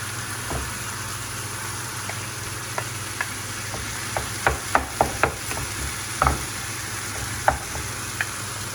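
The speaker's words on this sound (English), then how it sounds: "I'm going to add the mince now." Mince browns in a pan with a soft continuous sizzle, while a spoon stirs with scattered taps and scrapes that grow busier midway; close and fairly quiet, with no speech.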